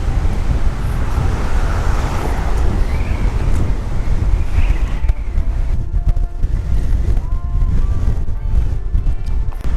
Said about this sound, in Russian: На улице капец как ветрено